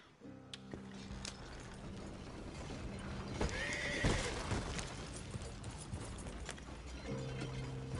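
A horse in the video game Red Dead Redemption 2 gives a loud, clear whinny midway, with faint hoof clops and tack rattle before and after, no speech.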